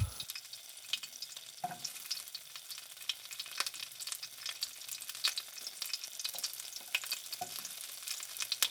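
Butter melts and sizzles in a pan with sliced onion ready nearby, a steady close crackling fry with scattered sharper pops throughout, no talking.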